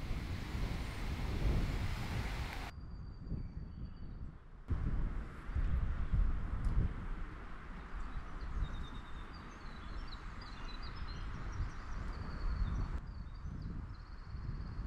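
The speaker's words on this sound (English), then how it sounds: "The wind was blowing straight through this narrow channel that we were sharing" Wind gusts through a narrow channel on a lake in Algonquin Park, a loud, rough rumble battering the microphone. It eases slightly partway through, with faint bird calls above.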